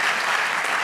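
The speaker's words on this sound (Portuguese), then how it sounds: "Aplausos pro Kleber Machado." A studio audience on a late-night talk show claps in a brief, dense burst of applause under a second long.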